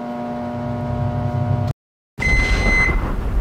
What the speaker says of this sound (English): No one wants to let the microwave reach zero and hear that annoying noise.